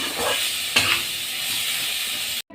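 Kalmi greens stir-frying in a pan with garlic and black cumin, a steady close sizzle and hiss with a brief louder spatter near the start, then the sound cuts off abruptly at the end.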